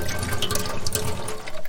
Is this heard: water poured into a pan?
yes